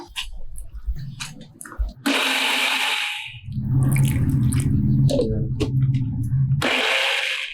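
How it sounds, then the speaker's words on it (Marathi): A loud whirring blender-like grinding runs in bursts, starting and stopping, with a wet churning quality over several seconds. "तर आता हिला मिक्सरला बारीक करून घेऊया"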